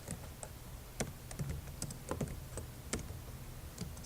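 Close, quiet tapping of computer keyboard keys comes in an irregular run of clicks and key strikes, with a few louder presses standing out.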